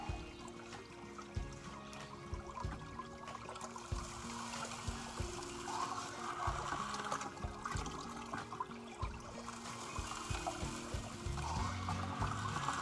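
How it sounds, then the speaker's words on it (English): Water running steadily through a gold prospecting sluice while concentrates are processed outdoors in North Carolina, a continuous trickling, pouring wash with soft gurgles and no talk, moderately close and even throughout. "Got the sluice running nicely."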